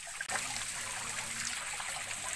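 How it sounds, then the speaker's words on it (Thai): Water flows steadily in a stream beside a hand-built nature retreat among the trees, a continuous close trickling wash with no talking. "เสียงน้ำไหล"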